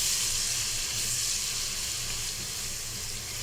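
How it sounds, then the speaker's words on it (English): Garlic and cumin seeds fry in a pot with a steady, bright sizzling hiss that eases slightly in level over a few seconds, alone with no talking. "Now I can add my garlic and cumin seeds mixed together and cook them together until the garlic is cooked."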